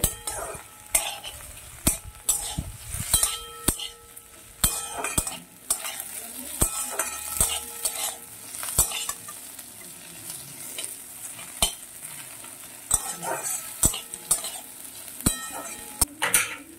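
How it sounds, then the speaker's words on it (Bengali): Potatoes and onions sizzle steadily in a pan for an Okra Posto dish, with frequent sharp clinks and scrapes of a spatula stirring against the pan; close, moderately loud, no talking. "আলু পেঁয়াজটাকে আরো একটু ভালো করে ভেজে নেব।"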